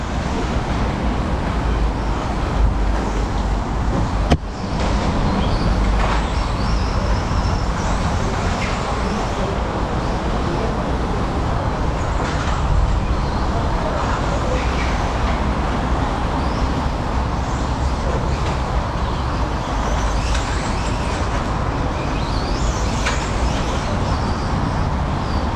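Fast cars rushing past on a road beside the Pipeline Trail in Singapore, a continuous loud roar of traffic with swelling passes and wind-like buffeting, close by, with no talk.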